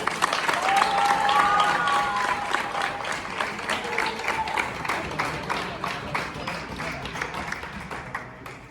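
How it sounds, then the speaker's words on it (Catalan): An audience at a trophy presentation after a final at a trinquet applauds, a dense wash of clapping that is loud at first and gradually thins into scattered claps. "Un fort aplaudiment per l'equip de Castelló, que juga Pablo Gorriol i Boni"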